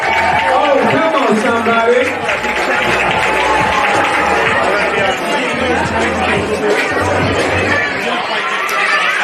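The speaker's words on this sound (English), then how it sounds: "give the kids a big round of applause, please" A crowd at a men's NSW football match between Sutherland Sharks and Marconi Stallions claps and cheers for the kids, sustained and loud, with chatter and crowd babble mixed throughout.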